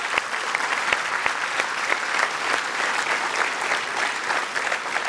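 Sustained applause from an audience at a televised women's club show, dense and steady clapping filling the room at close range throughout, with a few louder individual claps standing out.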